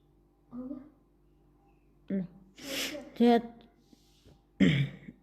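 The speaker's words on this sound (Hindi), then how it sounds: "मेरे बेटे को खांसी आ रही है" A child coughs and clears the throat in a few short, rough bursts spaced apart, close by, with brief quiet gaps between.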